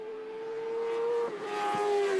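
A racing motorcycle in a Masters Superbike race passes at a distance, a faint engine whine rising and dropping in pitch over about two seconds.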